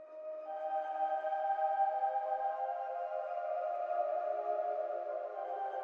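A soft sustained keyboard pad with a washy, plate-reverb tail, steady and fairly quiet throughout, with no voices.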